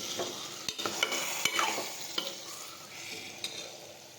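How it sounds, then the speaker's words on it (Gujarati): A brinjal and potato curry with Kashmiri chutney is stirred in a pressure cooker, with a gentle sizzle under repeated scraping and clinking of a spoon against the metal, alone without voices. "હવે મિક્સ કરી દઈશું બધું."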